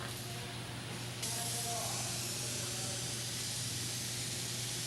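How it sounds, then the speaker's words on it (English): A steady, loud hiss of a spray gun applying white gel coat to a fiberglass boat hull runs throughout, with a low constant hum underneath and some faint background voices. "What he's going to do is spray on the first step, which is the white gel coat."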